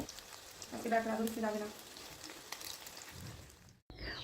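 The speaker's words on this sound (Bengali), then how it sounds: "যেহেতু আমরা ডুবো তেলে মাছগুলো ভাজছি তো খুব তাড়াতাড়ি মাছগুলো ভাজা হয়ে যাবে" Fish pieces deep-frying in a pan of oil give off a soft, even hiss and crackle, fairly quiet and close, with a brief voice heard partway through before a short dropout near the end.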